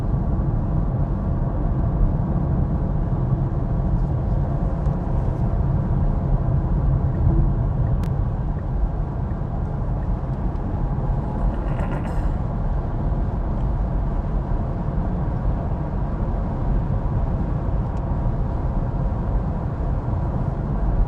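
Steady low rumble of road and tyre noise inside the cabin of a Tesla Model S Plaid on a concrete road, constant and moderately loud with no talk, a faint brief hiss partway through.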